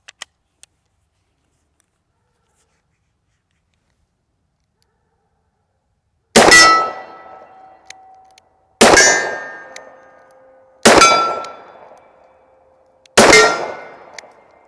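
Four Smith & Wesson Model 29 revolver shots ring off a steel target, each a loud sharp clang with a long metallic ring-out, spaced about two seconds apart after a quiet lead-in.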